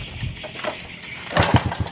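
A small engine with a hand pull starter coughs in short irregular bursts, trying to catch but dying each time, close and moderately loud with no steady running.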